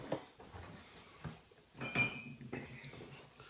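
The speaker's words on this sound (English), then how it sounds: "Scoop out the rice out of the container." Mug scooping dry rice out of a container, faint irregular clinks and rattles with a few sharper knocks of ceramic against the container, quiet and close.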